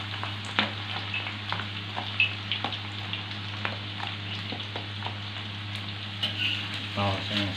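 Shallots and garlic fry in a pan with a steady sizzle, and light scrapes and taps sound throughout as they are stirred. A low hum runs underneath, and no one speaks.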